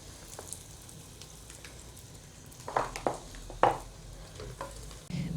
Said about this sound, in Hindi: सबसे पहले हम प्याज और लहसुन अदरक को हम हल्का सा फ्राई कर लेंगे